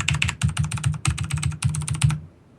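Computer keyboard keys are tapped in quick bursts of rapid clicks, close and clear, with short pauses between runs and no talk over them.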